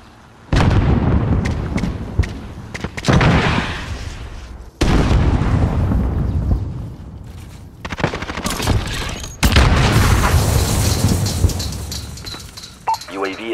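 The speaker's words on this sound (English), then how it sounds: "Cruise missile ready to launch." Heavy explosions boom in Call of Duty Modern Warfare multiplayer as a cruise missile strike lands, several loud blasts with rumbling tails and scattered bursts of gunfire between them.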